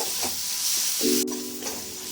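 Spice paste of ground dried chillies and turmeric fries in oil in a pan for a roadside-style ghugni, giving a short soft sizzle with a couple of scraping stirs.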